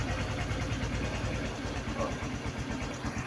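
A Honda XRM fi dual sport motorcycle engine idles at a high idle setting, a steady close-up putter with a fast even pulse and no talking over it.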